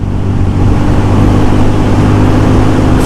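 Hero Mavrick 440 motorcycle engine at full throttle, a loud, steady, close-up roar with a strong low hum held throughout, no voices.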